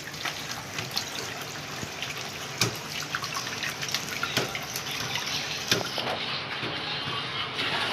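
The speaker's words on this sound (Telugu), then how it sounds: "ఇప్పుడు మనం కడిగేస్తున్నాం మంచిగా" Fish being rinsed in water at a kitchen sink, a steady running-tap wash with scattered splashes and drips at close range, no voices.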